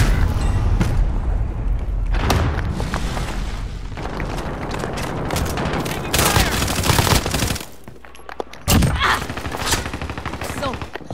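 Dense shooter video game gunfire fills the scene, with rapid fusillades, bursts and booming impacts running nearly continuously, loud and close, with a brief drop to near quiet before the shooting resumes.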